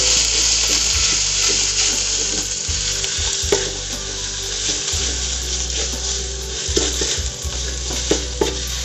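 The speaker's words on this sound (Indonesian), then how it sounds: "Kita tumis dulu ya sebentar bumbu halusnya." Ground spice paste fries in oil in a pan for Indonesian jackfruit curry, a loud continuous sizzle with occasional scraping and clinks as it is stirred.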